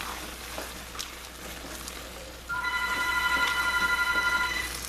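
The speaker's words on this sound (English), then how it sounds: "Whoever it is on the phone better not leave me a message." A telephone rings in a kitchen, its electronic tone starting partway through and repeating steadily, moderately loud over quiet room noise with no talking.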